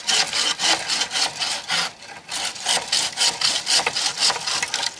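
A Bahco Laplander folding saw cuts through wood outdoors, giving a steady run of loud, close rasping strokes with a brief pause midway and no talking.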